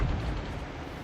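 Within the World of Tanks game, an artillery shell bursts, heard as a loud, deep, rumbling blast with a heavy low boom that slowly fades. It sounds alone, with no talking.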